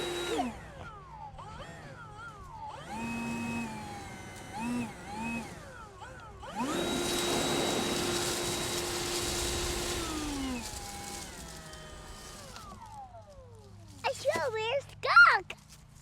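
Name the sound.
Milwaukee M18 battery leaf blower running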